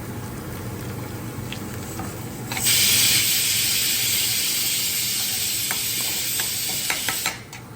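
Asafoetida dropped into hot oil for a tempering while making dosa: a quiet pan hum suddenly bursts into a loud, bright, continuous sizzle that holds for several seconds, with a few stirring clinks, then cuts off abruptly.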